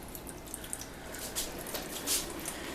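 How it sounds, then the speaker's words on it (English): Liquid poured into a stack of trays trickles and drips down from one tier to the next, a faint, steady wet patter with a few louder splashes and no voices. "pour it into that very first tray"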